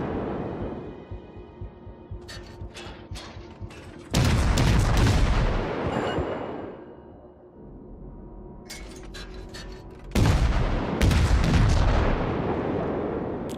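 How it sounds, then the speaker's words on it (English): Warship main guns fire high-explosive shells in World of Warships, two heavy booming salvos with rumbling tails, each followed by lower continuous battle noise and ship engine drone. "Firing high explosive."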